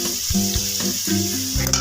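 Carrots sizzle as they fry in a pan, a continuous hissing crackle running beneath tonal background music.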